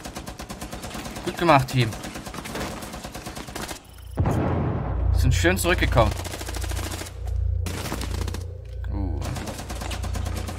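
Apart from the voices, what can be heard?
gunfire in the video game Rainbow Six Siege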